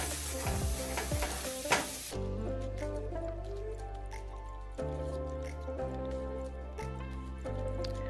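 Ground beef browns in a pan with a soft, steady sizzle. After a brief clatter of stirring at the start, the hiss carries on evenly at low volume, close by.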